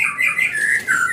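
A flock of starlings (jalak) calls near their cage, giving loud, close, overlapping whistles and squawks without a break.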